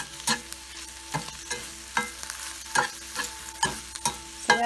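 Vegetables for an omelet are stirred around a frying pan, with a soft continuous sizzle and a regular series of scraping, tapping utensil strokes against the pan, roughly one every second.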